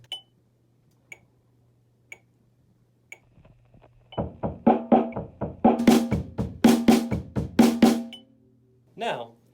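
Kick drum and snare drum play a short pattern with the kick on the downbeat and the "e" and the snare on the "and", starting after a few soft metronome-like clicks and sounding close and clear, with no talking.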